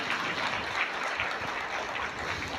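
Church congregation clapping in thanks during a Tamil Catholic sermon, a dense continuous patter of many hands filling the hall at moderate volume.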